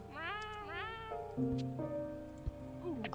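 A cartoonish cat in an indie video game gives several short rising meows in quick succession, clear and close over soft game background tones.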